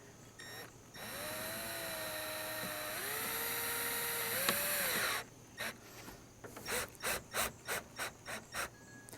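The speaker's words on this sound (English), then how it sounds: "You're gonna need a Phillips screwdriver or a little Phillips drill, like I got." A small Phillips power drill drives a screw into plastic pool step parts, whining steadily for a few seconds, rising in pitch, then driving in short rhythmic bursts, close by.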